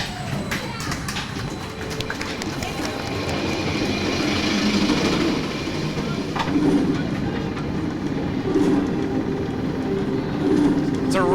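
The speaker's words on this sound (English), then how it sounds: "It's a really quick lift hill." Roller coaster car on the Phoenix Rising ride climbing a quick lift hill, a steady rumbling clatter with rhythmic clicking, continuous and fairly loud, with excited riders' voices and shouts over it.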